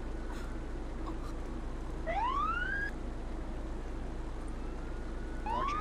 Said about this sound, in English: there's a button to turn the siren on